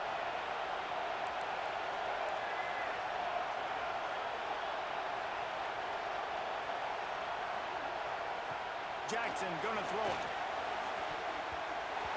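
A simulated stadium crowd in EA Sports College Football 26 roars steadily through a third-down play, and a commentator speaks briefly near the end.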